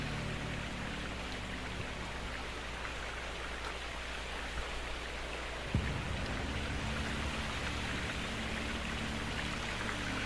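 Water running continuously in the Gold Rush video game, a steady hissing wash like heavy rain or a stream, with a low mechanical hum beneath and a small thump partway through.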